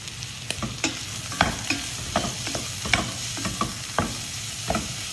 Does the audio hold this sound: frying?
yes